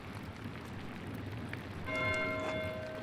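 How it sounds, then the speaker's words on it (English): A church bell rings out in the medieval abbey of the video game Pentiment, a sustained metallic tone entering partway through over a steady rain-like background hiss. "Why is Matthew ringing the bell?"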